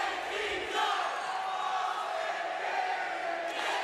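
Crowd of over 1,000 fans at a wrestling championship match, a Last Man Standing bout, cheering and shouting in a steady dense roar that fills the space for the whole stretch with no single voice standing out.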